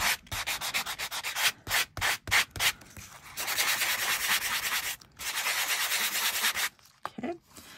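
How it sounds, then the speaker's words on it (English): Metal tape art tag being buffed and rubbed by hand, giving a dry, steady scratchy friction in repeated bursts with short pauses, close and fairly loud with no talking. "if I buff this, and I'm going to buff half and I'm going to rub half"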